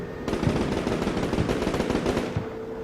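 Sustained machine gun fire in the military video game Combat Mission Shock Force 2 rattles in a dense, continuous burst for a few seconds without speech.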